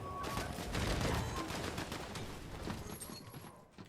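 Rapid bursts of gunfire in the video game Fortnite rattle densely and loudly for a few seconds, then thin out and fade toward the end.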